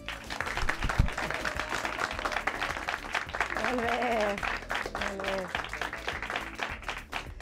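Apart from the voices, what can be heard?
studio audience applause on a quiz show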